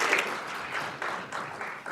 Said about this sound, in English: Please give a round of applause to Amy Cole Smith, Randy Weingarten, and Sarita Brown